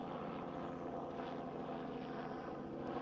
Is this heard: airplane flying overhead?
yes